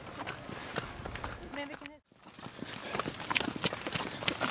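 Horse hooves clip-clop steadily on a hard surface with people talking over them; a brief cut interrupts before the hoofbeats continue.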